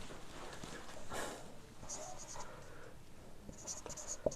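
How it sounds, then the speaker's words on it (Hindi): Pen or chalk writing out a statistics formula makes soft scratchy strokes in short bursts, faint and fairly close, with a few light taps between them. "कोफिशिएंट ऑफ क्वार्टाइल रेंज का फार्मूला लिखते हैं।"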